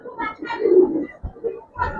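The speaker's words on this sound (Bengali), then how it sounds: "এই হচ্ছে কবুতর।" Giribaz pigeons coo in a few soft, throaty bursts close by, with a short pause between calls.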